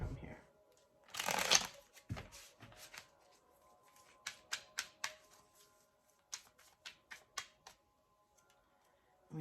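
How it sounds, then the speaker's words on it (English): A deck of cards is shuffled in a quiet room, with one loud riffle burst followed by a series of softer, evenly spaced card flicks and taps, and a voice speaks faintly in places. "I feel like I need to shuffle more."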